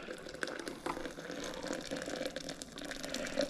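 Water poured steadily from a kettle over coffee grounds for a pour-over brew, a faint, continuous trickling splash, quiet and close, with no talking.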